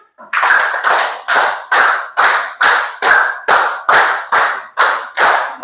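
A classroom group claps in unison, twelve crisp, loud claps in four sets of three at a steady, even pace.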